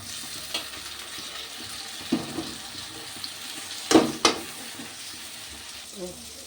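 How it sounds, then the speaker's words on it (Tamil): Onions and tomatoes sautéing in a pan for a home-style meat curry, a steady low sizzle with stirring scrapes and a couple of sharper clatters of a spoon against the pan. "வெங்காயம் வதங்கிடுச்சு, இப்போ தக்காளி போட்டு வதக்கலாம்"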